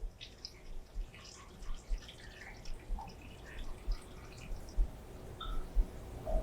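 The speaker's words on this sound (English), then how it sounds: "then we just pour the brine over the pickle carefully" Brine is poured carefully over cucumber pickles in a jar, giving soft splashes and trickling drips at an uneven rhythm, close and fairly quiet, with no talking.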